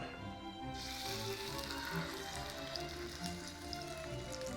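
Wild Alaskan salmon frying skin-down in hot oil in a pan, a steady close sizzle and crackle that continues unbroken throughout.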